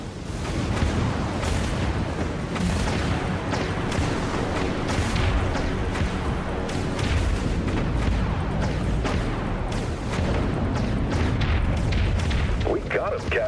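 Vulture missiles and broadside ballistic guns fire in a Dreadnought space battle with a Tier 1 Akula Vektor dreadnought: a dense, continuous barrage of loud booms and blasts, with speech-like game chatter layered underneath.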